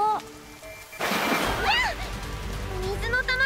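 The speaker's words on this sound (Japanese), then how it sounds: "水の玉が爆発しちゃった。" A water ball bursts in an animated episode: a sudden loud splashing whoosh that tails off into sloshing spray, with cartoon voices and squeaky chirps over it.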